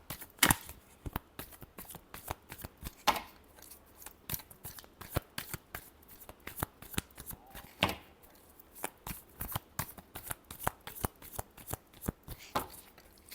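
Tarot cards are shuffled by hand in a steady stream of quick, crisp slaps and flutters, close and continuous with no voices.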